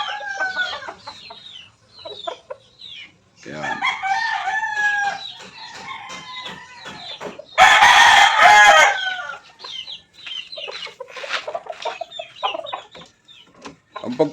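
A gamecock rooster crows loudly amid steady clucking and chicken chatter, with several birds calling close by on a busy gamefowl farm.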